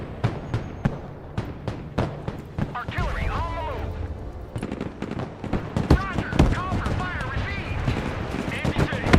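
Explosions and weapon fire in the war game Broken Arrow, including a tank being destroyed and mortar strikes, a dense run of sharp bangs and heavier booms throughout, mixed with excited talking over the battle.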